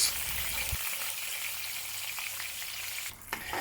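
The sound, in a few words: pork knuckle shallow frying in oil in a pan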